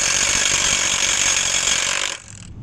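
A power drill runs steadily for about two seconds, driving into a bolt on a solar farm mounting frame, loud and close, then cuts off abruptly, leaving a low background hum.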